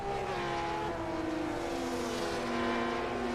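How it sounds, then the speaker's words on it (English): Race car engines in a sim racing game wail at high revs as the cars climb the hill at Watkins Glen, a steady, loud, layered drone with shifting pitch and no talk. "Just hear those cars screaming up the hill"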